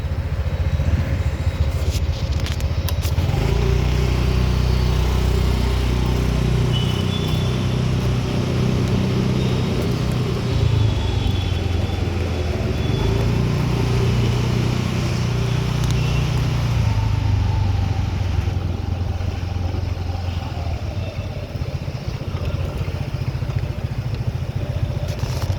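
A vehicle descending a ramp from a building rooftop in Bangalore, giving a continuous close engine drone with low rumble and some clatter, steady and loud for the whole span.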